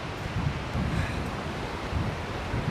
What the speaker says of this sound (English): And just like that, here's the river.